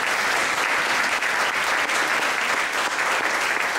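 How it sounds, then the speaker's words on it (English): A loud, dense round of audience applause for the first patient at a chiropractic healing talk, sustained evenly throughout with no pauses. "Give her a round of applause."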